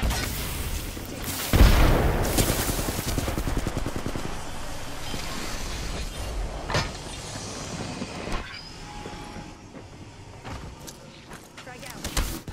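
A frag grenade detonates in the Apex Legends game as one sharp, heavy boom early on. A rumbling, mechanical game soundscape and a voice talking continue underneath.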